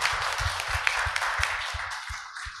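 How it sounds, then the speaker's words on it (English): Audience applause at the close of a tech talks event in Salento, a steady wash of clapping with a regular low thumping pulse running beneath it. "a huge applause for you."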